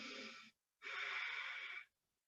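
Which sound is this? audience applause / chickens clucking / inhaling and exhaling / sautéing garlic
inhaling and exhaling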